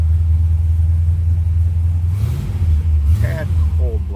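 A 1968 Chevrolet Impala's 502 big-block V8 idles while warming up with a deep, loping rumble, steady and close, while a voice briefly speaks over it near the end.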